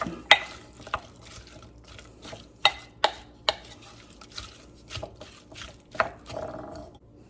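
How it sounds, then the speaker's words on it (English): Chicken and green chile casserole ingredients mixed together in a bowl: a few soft scraping stirs punctuated by sharp clinks of a utensil against the dish, close and quiet, with no voices. "I'm going to mix those together just a little bit."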